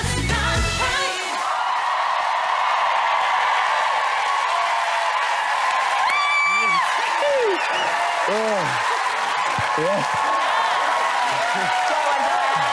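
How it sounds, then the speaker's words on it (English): Studio audience at a BBC Strictly Come Dancing ballroom show giving a standing ovation, sustained loud applause and cheering with scattered whoops and yells throughout, and a host talking over the din. "The crowd are on their feet."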